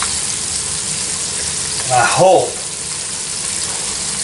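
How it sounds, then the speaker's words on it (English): Squirrel legs frying in a pan, a steady soft sizzle throughout with a brief louder burst of spatter around the middle and a single spoken word. "we knew I was going to be frying up these squirrel legs"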